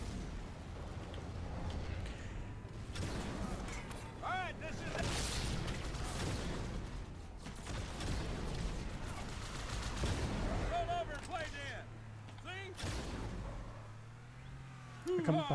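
Rapid gunfire and booming explosions from the video game Halo 2 Anniversary, dense and continuous with bursts stacking on each other, while a voice talks intermittently over the battle.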